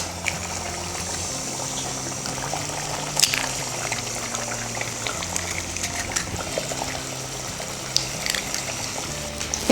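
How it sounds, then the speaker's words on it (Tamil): Eggs cracked one at a time into a pan of thin, simmering chili gravy for egg thokku: the gravy bubbles and hisses steadily, broken by a few sharp cracks and soft plops heard up close. "இப்போ நம்ம முட்டையை உடச்சி ஊற்றிக்கலாம்."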